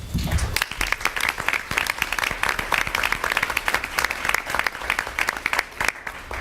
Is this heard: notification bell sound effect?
no